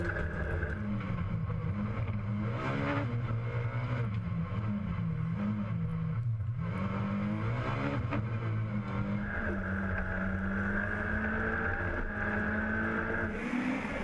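Rallycross race cars at the 2014 French championship in Dreux, racing on a very muddy, slippery track: engines roaring steadily throughout, pitch rising and falling as they accelerate, loud and continuous with wind noise.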